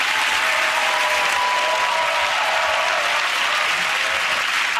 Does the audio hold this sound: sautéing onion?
no